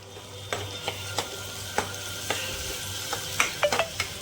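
Onions fry in a pan while being stirred, a constant sizzle broken by repeated sharp scrapes and clacks of the spoon, several in quick succession near the end; close and with no talking.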